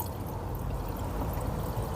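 Drive Tech engine flush being poured into the engine of a Volvo V70 T5 estate, a steady continuous liquid pour with no talk, fairly quiet and even throughout.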